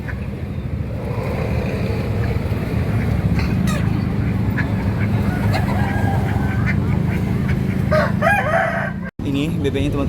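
Muscovy ducks and chickens crowd a poultry market in Makassar, a dense, loud, unbroken chorus of quacks, clucks and crowing close by.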